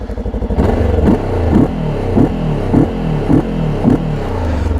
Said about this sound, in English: So now the bike is hot and ready to go.